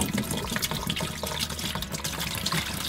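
Milky tanking primer for waterproofing a van shower pours steadily into a bucket, giving a continuous soft liquid splashing and trickling that stays fairly quiet and even throughout, with no talk.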